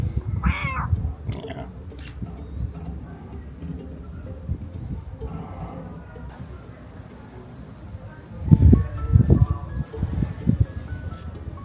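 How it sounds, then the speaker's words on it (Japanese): A cat meows a couple of times near the start inside a house in Vallauris, southern France, followed by quiet rustling and handling noises, with louder bumps and shuffling toward the end. "綺麗な猫さんがね"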